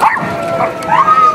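Dogs marching in a Christmas parade in Wells, Maine, giving close, loud yips and whining barks in a quick burst of about a second and a half.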